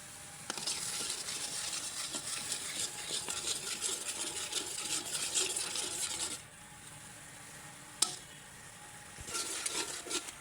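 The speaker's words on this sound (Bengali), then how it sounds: "এখন কিন্তু মশলাটা খুব ভালো করে কষিয়ে নিতে হবে" Spice paste with turmeric and salt being stir-fried in a pan over a new clay stove, a steady sizzle with scraping stirs that stops briefly and resumes, one sharp clack in the gap, moderately quiet.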